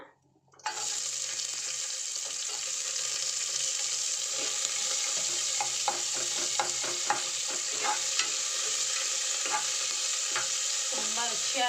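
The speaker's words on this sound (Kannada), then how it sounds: "ಈರುಳ್ಳಿ ಹೆಚ್ಚಿಟ್ಕೊಂಡಿದ್ನಲ್ವ ಈರುಳ್ಳಿ ಹಾಕ್ಕೊಳ್ಳೋಣ" Chopped onions dropped into hot oil for a home-style pulav, a loud steady sizzle with scattered crackles and stirring clinks running continuously after a brief quiet start.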